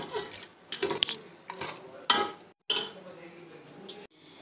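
A spoon scrapes and knocks in a pan while yogurt and onion fry for mutton korma, with a few sharp clinks, short pauses and a light sizzle underneath, close by.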